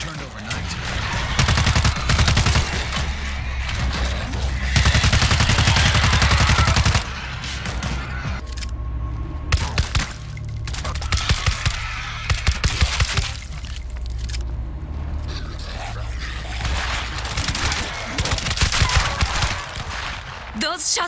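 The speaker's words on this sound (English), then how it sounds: "Those shots came from the highway." Bursts of rapid gunfire in the zombie shooter World War Z, loud volleys of automatic shots coming and going over a droning game soundscape, with voices speaking in between.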